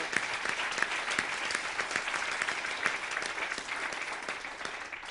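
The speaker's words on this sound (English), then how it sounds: "Give them a round of applause." Steady applause from an audience, many hands clapping continuously at an even level with no talk, sustained for several seconds in a room.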